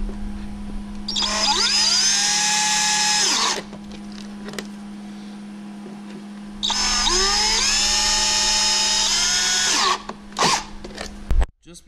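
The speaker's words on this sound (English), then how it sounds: "make sure you put your hand underneath and actually hold the pony so it stops it from rotating, and drill the last one out" A power drill whines loudly in two long bursts separated by a pause, then a few short clicks and knocks at the end.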